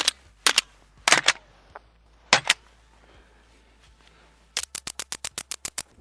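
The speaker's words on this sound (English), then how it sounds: "We're gonna rack it off the slide a whole bunch." Pistol slide racked repeatedly with a Cyelee Chameleon sight mounted, sharp metallic clacks in spaced pairs at first, then a fast rapid series of crisp snaps near the end, close and loud in a quiet setting.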